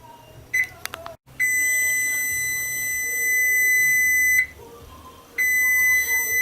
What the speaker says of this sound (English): we're gonna go ahead and turn off our timer